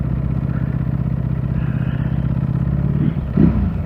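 Ducati Panigale V4 sportbike engine running on the road, a steady low-pitched drone with a brief throttle blip near the end, no talking over it.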